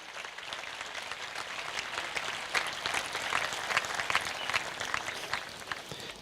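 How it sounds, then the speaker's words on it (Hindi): A congregation applauds during a Good Friday church sermon, with dense, sustained clapping that swells a little toward the middle and continues without speech. "आओ यीशु नासरी के लिए भरपूर तालियां।"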